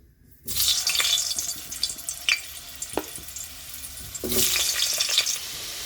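Potatoes drop into a large wok of hot oil already used for frying green banana kofta and erupt into a loud sizzling hiss. Occasional utensil clicks follow, then a second burst of bubbling.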